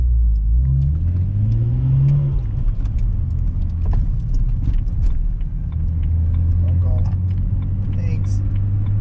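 A BMW 335i with an aftermarket exhaust revs hard during acceleration pulls; the engine note climbs sharply at first, then settles into a loud, steady exhaust drone, with a rumble under it.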